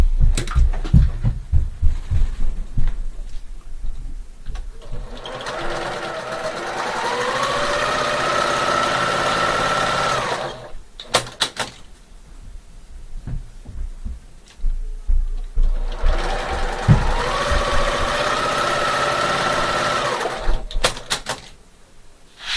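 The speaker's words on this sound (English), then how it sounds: "So I'm going to now sew 1/4 inch on either side of that line." A sewing machine stitches quilt half-square triangles in two sustained runs of rapid whirring, loud and close, with quieter handling clicks and thumps between them.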